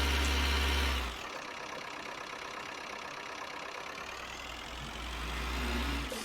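A tractor engine runs in the open on farm ground being worked for potatoes, a steady mid-low mechanical drone with a louder rumble at the start and end.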